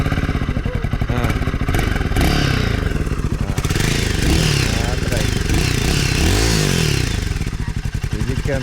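Motorcycle engine started and revving in neutral, a loud, close, rapidly pulsing idle that rises and falls through several throttle blips with mechanical clatter, under occasional talk.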